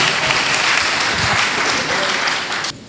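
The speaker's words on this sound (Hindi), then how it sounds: "एक बार जरा जोरदार तालियां बजाइए भाई शंभू" A crowd at a Hindi poetry gathering (kavi sammelan) gives poet Shambhu Shikhar dense, loud applause that runs steadily for nearly three seconds before cutting off.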